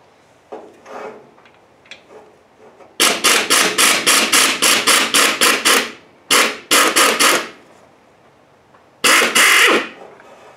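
Rapid ratcheting bursts from a wrench come up close as a bolt is removed and torqued on a car's front-runner accessory drive. Faint shop clicks come before them, then several quick runs of sharp clicking separated by short pauses.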